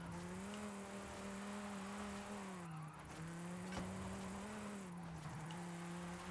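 A 1970 Mercury Cyclone in a racing video game holds a steady engine drone while drifting, its pitch dipping and rising with throttle changes under a faint hiss of tire noise.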